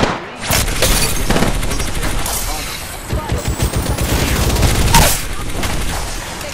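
Rapid gunfire from an Apex Legends firefight, bursts of shots and booming impacts filling the whole stretch at close range, with callout voice lines layered over the shooting.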